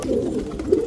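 A pigeon coos close by in a single short, soft, throaty call, with no voices over it.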